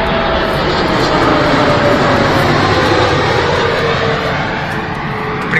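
A fixed-wing airplane passes overhead, its engine a loud, steady broadband roar that holds throughout and eases slightly at the end, with no talking.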